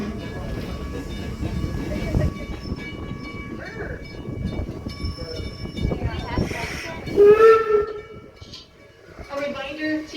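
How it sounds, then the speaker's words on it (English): A steam locomotive at the Greenfield Village station gives a single whistle blast, a short loud tone standing out near the end over background noise and passing train sounds. "The engineer will set a brake and give us the sound of a single whistle, letting us know that it is safe to come off the train."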